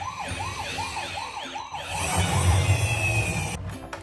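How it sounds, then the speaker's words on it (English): An ambulance siren wails in rapid repeating rising-and-falling sweeps, close and loud, then shifts to a different tone before cutting off into a brief steady pitch. "And then the siren."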